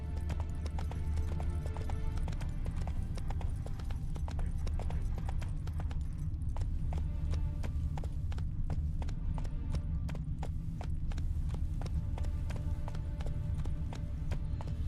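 A horse galloping in The Witcher 3, with rapid rhythmic hoofbeats under continuous background sound for the whole stretch, and no talk.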